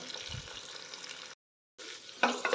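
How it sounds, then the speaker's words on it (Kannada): Onion and fresh green peas fry in oil for tomato bath, a steady close hiss of sizzling broken by a brief gap, then louder crackling bursts near the end. "ಈರುಳ್ಳಿ ಮತ್ತು ಹಸಿ ಬಟಾಣಿ ಎಲ್ಲ ಎಣ್ಣೆಲಿ ಸ್ವಲ್ಪ ಫ್ರೈ ಆಗಬೇಕು"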